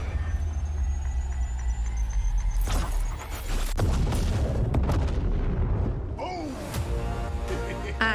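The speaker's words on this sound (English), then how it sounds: "Grenade." Grenade explosion in an Apex Legends game cinematic, a heavy boom amid rumbling battle noise and engine-like drone, with voices talking over the scene.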